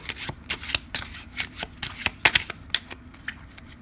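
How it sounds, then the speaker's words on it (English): A deck of cards is riffled and shuffled repeatedly up close, giving crisp rapid snaps and flutters in an uneven rhythm, with no voices. "we're just going to shuffle the deck"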